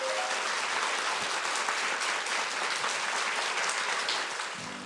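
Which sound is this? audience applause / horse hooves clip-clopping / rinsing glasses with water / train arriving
audience applause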